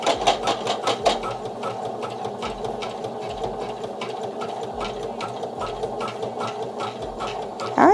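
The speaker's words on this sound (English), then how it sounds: "All right, we're going to go ahead and let it embroider." A Poolin EOC06 single-needle embroidery machine running at 150 stitches per minute, stitching an appliqué tack-down layer on a T-shirt: a loud, fast, steady mechanical needle chatter throughout.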